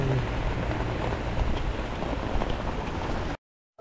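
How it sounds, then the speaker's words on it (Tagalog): Heavy rain pouring down during a stop on a mountain bike trail ride: a loud, dense, steady hiss that continues unbroken until it cuts off abruptly shortly before the end. "Lumakas na yung ulan."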